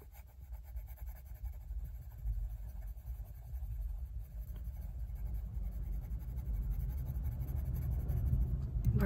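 Faberâ€‘Castell Polychromos colored pencils drawing on paper at medium pressure make a faint, continuous soft scratching of small back-and-forth strokes, quiet and close with a low background rumble.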